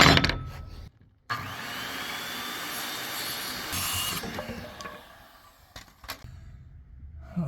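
A saw cuts through wood for a DIY truck bed slide-out, a steady loud rasping stroke running for several seconds after a brief pause, ending with a few lighter scrapes and knocks, with no talking.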